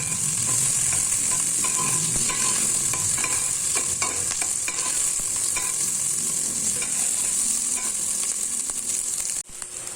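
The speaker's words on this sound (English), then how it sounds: "And now we can add our garlic and onions. We'll just saute it for about 2 to 3 minutes" Garlic and onions sautéing in a pot for a fish chowder, giving a steady close sizzle with occasional stirring scrapes and clinks running throughout.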